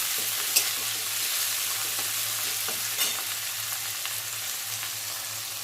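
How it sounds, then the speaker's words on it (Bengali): Onion and tomato fry steadily in a pan for a thin mutton curry, a continuous broadband sizzle with a faint low hum beneath and a few soft stirring knocks, close by and with no talking. "দেখুন হালকা হালকা ভাজা ভাজা হচ্ছে পেঁয়াজটা"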